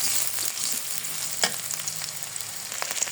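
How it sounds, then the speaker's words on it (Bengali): A large onion frying in oil, a continuous bright hiss and crackle close by, with a soft stirring scrape midway and scattered small pops. "এখানে একটা বড় সাইজের পেঁয়াজ দিয়ে দিলাম তেলে।"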